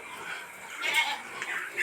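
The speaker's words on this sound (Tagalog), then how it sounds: "ang kawawang-kawawa talaga dito ay ang aking mga alagang kambing" Pet goats bleating in the rain, a couple of close, wavering bleats over a soft hiss of rainfall.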